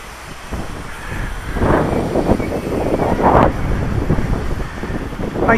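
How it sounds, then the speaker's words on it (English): Strong, gusty wind buffets the microphone outdoors, a loud, rough roar that swells and surges in uneven bursts throughout. "Very gusty now."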